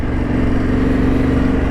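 A Yamaha T7 adventure motorcycle engine drones loud and steady at close range during a dirt trail ride, holding an even pitch without revving.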